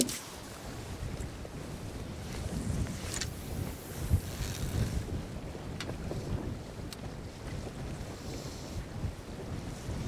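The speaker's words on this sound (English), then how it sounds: "Full send in the wind. This is the day that the net's gonna blow away." Strong, steady wind roars and buffets the microphone aboard a fishing boat out on Green Bay in 30 mph gusts, with water sloshing against the hull throughout and no voices.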